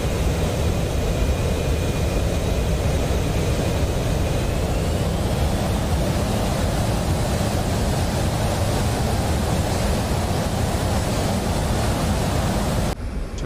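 A single-engine-style jet roar of an F-117A Nighthawk in DCS World, a steady, loud, broadband rush with a thin high whine that rises slightly in pitch during the takeoff run, continuous throughout with no voices.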